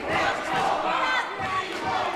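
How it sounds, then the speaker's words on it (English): Wrestling crowd in Cambridge roaring and cheering continuously, a dense loud wall of shouts with surging peaks, no clear individual talk. "This crowd love it."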